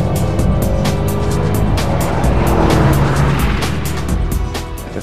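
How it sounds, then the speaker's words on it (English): Bentley Continental engine roaring hard as it climbs through its 8-speed gearbox on a circuit, loud and close, with the pitch rising and dropping between shifts and faint tire noise. "Listen to the roar of that engine. It's going up through the 8-speed box."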